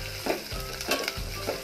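Onion, green chillies and curry leaves frying in oil for upma, a close sizzle with three quick scraping stirs of a spoon against the pan, unaccompanied by any voice.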